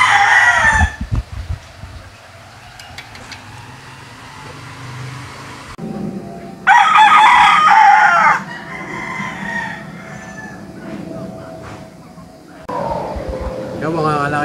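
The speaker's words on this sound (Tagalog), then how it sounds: "ito po yung ibang mga manok nila dito" At a Filipino gamefowl farm, chickens cluck and roosters crow in short bursts, one crow loud and close, with a vehicle passing and people talking in between.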